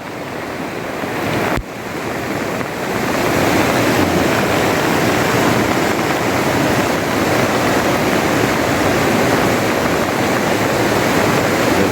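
Rushing floodwater from a river swollen by heavy rain in Konkan, a loud unbroken roar with a sharp thump early on, then a steady dense torrent close by with no voices.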